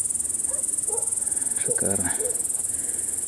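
Grasshoppers chirp at night in the countryside, a steady high-pitched shrill trill running unbroken throughout, while someone speaks briefly over it.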